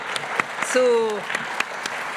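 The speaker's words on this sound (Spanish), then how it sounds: "Vamos a darle un aplauso a Álvaro" Scattered claps ring out at a recognition ceremony honoring a guest speaker, with sparse individual hand claps and a brief voice rising in the middle of the short stretch.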